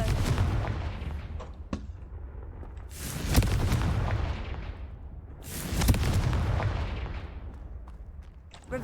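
Confringo fire spell explosions in the video game Hogwarts Legacy, two heavy booming blasts a few seconds apart with rumbling decay over a low background roar.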